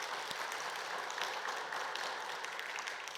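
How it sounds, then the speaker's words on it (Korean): A church congregation applauds a deaconess during an afternoon praise service and discipleship completion ceremony, a soft, continuous wash of hand clapping heard from a distance. "우리 이민영 권사님과 박수 한번 하겠습니다"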